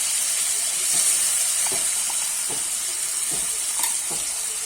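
Ground ginger, tomato and peanut masala paste frying in a pan for dudh palak, giving a steady loud sizzle and hiss with a few soft stirring clicks scattered through.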